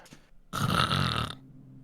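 A person playing a tabletop Dungeons & Dragons game imitates snoring with a single loud, rasping snore of about a second, close to the microphone.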